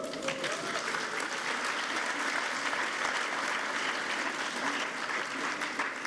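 Graduation ceremony audience applauding with some cheering, a dense, steady burst of clapping from a large crowd lasting several seconds.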